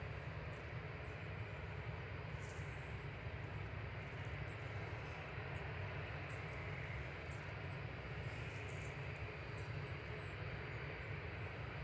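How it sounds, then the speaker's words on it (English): An Airbus A380 pushes back at Manchester Airport, its engines a faint, steady, distant rumble with no breaks across the whole stretch. "A380 pushing back."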